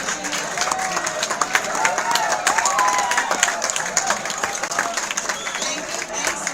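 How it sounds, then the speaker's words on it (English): An audience at a college innovation-cell career session stands and applauds, sharp irregular claps over a sustained crowd roar with some cheering and murmured voices mixed in throughout. "have a big round of applause for our own self"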